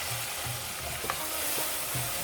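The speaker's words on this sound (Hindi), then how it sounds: "अच्छी तरह से मिक्स करूंगी" A spoon stirs sugar into sheer khurma vermicelli with milk in a pan, quiet scraping strokes over a soft continuous sizzle, close and alone without talk.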